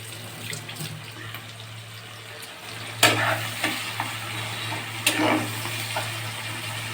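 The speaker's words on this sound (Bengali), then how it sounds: "দেখুন হালকা লাল হয়ে আসছে পেঁয়াজটা।" Onion frying in oil in a wok, steady sizzling hiss under a constant low hum, with scraping stir strokes and occasional clattering clicks.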